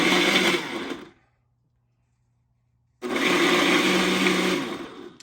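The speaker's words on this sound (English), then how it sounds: "And then we're gonna blend it up." A blender whirs loudly as it blends a protein shake with hydrolyzed whey isolate, running in two dense bursts, about a second and then two seconds long, separated by a silent pause.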